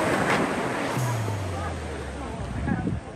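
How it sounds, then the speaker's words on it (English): Ocean waves at Kata Noi Beach, Thailand, washing in as a broad, steady surf roar with wind buffeting the microphone and a swell of breaking water near the end, while a voice talks over it. "Look at the waves."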